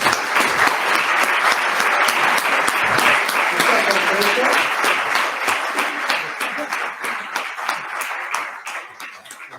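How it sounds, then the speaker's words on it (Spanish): Sustained audience applause at a writers' association gala, dense steady clapping from a crowd that holds strong for most of the stretch before tapering slightly near the end, with no voices rising above it. "Un aplauso para Esther Novalgo."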